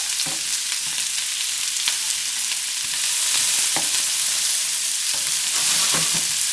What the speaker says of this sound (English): Just stir fry them and browning them a little bit.